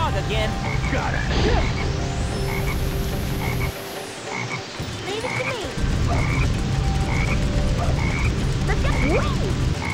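Repeated croaks from a black frog in Sonic Heroes sound under excited character voices and game effects, several short throaty calls scattered across the stretch.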